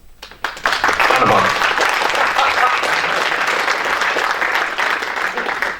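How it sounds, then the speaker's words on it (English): Sustained applause from a conference audience during a Q&A session, rising quickly after a brief start and holding steady and dense to the end. "That deserves an applause."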